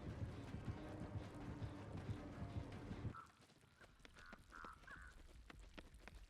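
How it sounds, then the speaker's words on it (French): A crow cawing in the video game Dead by Daylight, several short hoarse caws heard after a steady rumbling background suddenly drops away. "Ah oui, t'as un corbeau au-dessus de ta tête."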